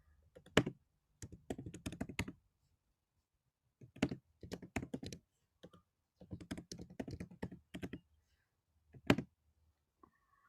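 Typing on a computer keyboard comes in quick bursts of close, crisp key clicks, with short pauses between the runs, in a quiet room with no talking.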